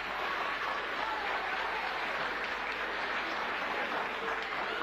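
Audience at a tribute concert for an Argentine popular music musician applauding a performer, with a steady, even wash of clapping, fairly faint and distant, continuing without a break.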